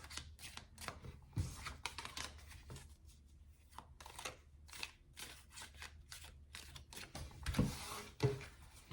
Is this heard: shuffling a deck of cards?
yes